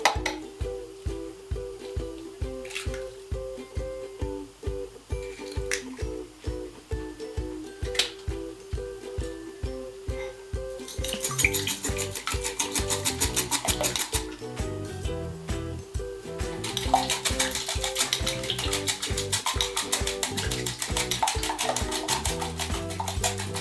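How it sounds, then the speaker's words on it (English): An egg whisked in a bowl while making a spicy chai fruit cake: a steady run of quick, light clicking strokes, later joined by louder, busier background music. "I'm going to crack an egg and whisk it"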